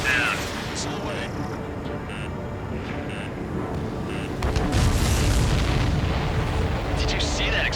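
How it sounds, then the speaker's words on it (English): In the Ace Combat 7 flight combat game, a missile explosion booms and rumbles heavily midway, over a continuous roar of jet engines, with a voice heard over the radio. "Did you see that explosion?"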